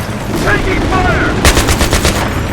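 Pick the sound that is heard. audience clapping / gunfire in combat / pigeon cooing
gunfire in combat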